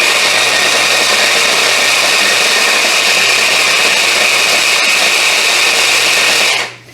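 A food processor chopping breadcrumbs fine: a loud, steady, high motor whir running without a break before stopping abruptly near the end, with no voices.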